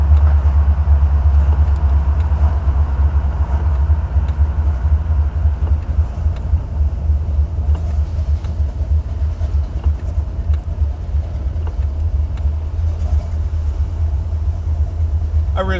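Buick 455 Stage-1 Regal-T engine rumbling steadily at low pitch while the car is driven, a continuous road and drivetrain drone throughout.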